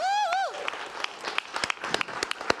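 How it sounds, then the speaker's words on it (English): A Sunday gathering audience applauds two organizers, starting with a whooping cheer and then a lively stream of claps and scattered sharp hand strikes, with voices calling out over it. "Let's give them a huge round of applause"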